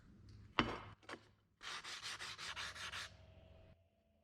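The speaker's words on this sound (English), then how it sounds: "Now I'll just take the diamond pad and just take the roughness off it again." A diamond pad is rubbed over the rough edges of a glass egg sculpture. It starts with two short gritty scrapes, then gives a run of about eight quick, even back-and-forth strokes, close and fairly quiet, with no talking.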